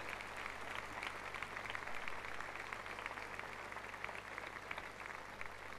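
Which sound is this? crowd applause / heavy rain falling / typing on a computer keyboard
crowd applause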